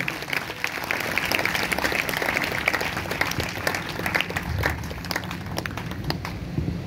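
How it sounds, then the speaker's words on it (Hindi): A church congregation claps together during a Hindi-language sermon, a fairly soft, continuous wash of hands heard from a distance with no voices over it. "अगर आए हैं तो जोरदार तालियां बजाना।"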